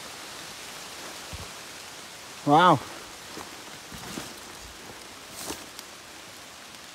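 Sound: rain starting to fall on a trail

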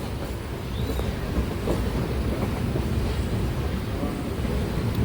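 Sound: local train running

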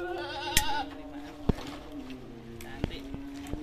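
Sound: goats on a goat breeding farm

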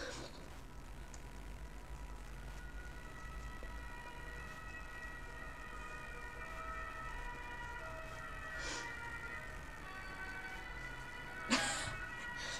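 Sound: ambulance siren

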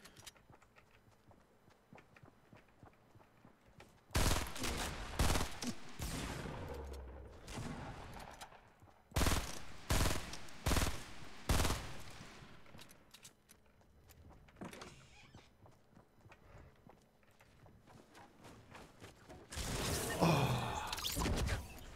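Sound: gunfire in the video game Fortnite

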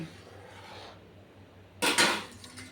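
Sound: washing dishes and pots

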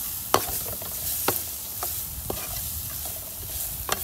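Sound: sauteed onions stir frying in pan for beef stir fry

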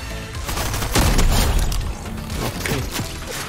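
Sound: gunfire from guns in the video game Fortnite

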